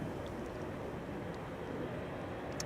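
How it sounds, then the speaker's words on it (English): A KLM Boeing 777-300 airliner bound for Cape Town departs Amsterdam Schiphol as a steady, broad, distant roar that holds even and unbroken throughout. "time for KLM 597. 777-300. Going to Cape Town, South Africa. Here it is."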